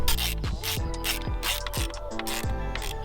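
A hand ratchet clicks in quick repeated bursts, tightening small screws back in place during a service on an Audi A3, with crisp close pawl chatter and short pauses between strokes.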